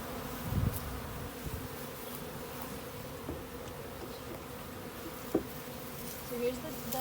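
Honeybees buzz in a steady, dense drone around a hive on a sunny day, heard up close as a continuous hum with occasional faint knocks and no speech.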